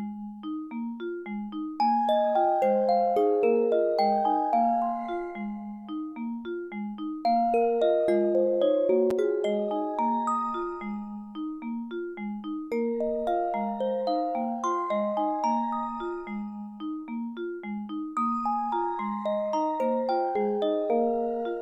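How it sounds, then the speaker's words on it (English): A synthesized vibraphone ostinato repeats a bouncing mallet pattern alone for a measure, then synth bells join with brighter, higher chiming notes layered over it, clean and close with no other sounds. "so that you can hear one measure of the vibes by themselves, and then with the bells coming in"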